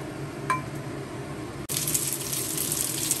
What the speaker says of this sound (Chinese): 这个水开了，把这些丸子倒下去煮一下